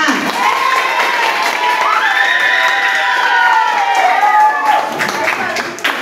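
Classroom applause and cheering for a top-ranked pupil, with clapping and excited children's shouts and voices rising and falling close by, loud and lively throughout.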